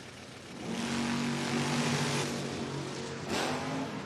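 Drag race cars at a Door Wars event, a 4th gen Trans Am and a 3rd gen Camaro-style ride, revving hard and accelerating away, a loud continuous engine roar with a second surge near the end.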